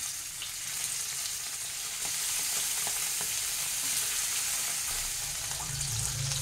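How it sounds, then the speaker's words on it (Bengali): Fish frying in smoking-hot mustard oil, a loud continuous sizzle and spatter heard up close without any talk. "এবার এর মধ্যে আমি এই মাছগুলো একে একে দিয়ে এগুলোকে হালকা করে ভেজে নিচ্ছি।"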